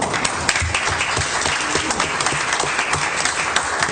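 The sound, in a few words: applause at city council meeting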